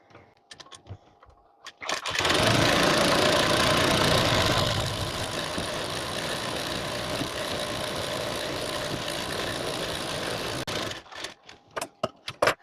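An electric sewing machine stitches a seam on a four-panel petticoat, starting abruptly into a steady, loud whirring drone that runs for about nine seconds before stopping, with faint handling sounds before and after.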